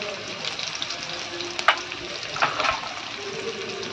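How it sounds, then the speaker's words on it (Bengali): Onion frying in a pan until reddish brown gives a steady, moderately close sizzle and crackle, with a couple of brief stirring clatters partway through. "পেঁয়াজটা একটু ভালো করে লাল লাল করে ভেজে নেব"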